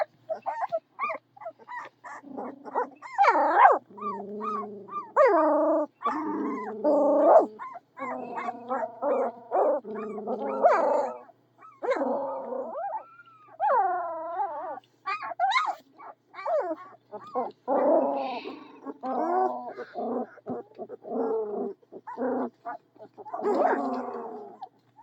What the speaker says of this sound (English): Are you going to bark at me?